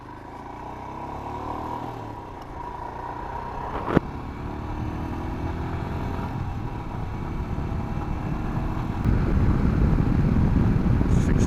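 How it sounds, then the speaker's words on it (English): A 2021 Royal Enfield Himalayan being ridden, its engine droning steadily under heavy wind buffeting and rising as it accelerates, with one sharp knock partway through. "Okay, let's get on and ride her a bit more, shall we?"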